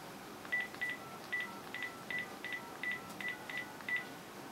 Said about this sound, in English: Let's try calling myself here.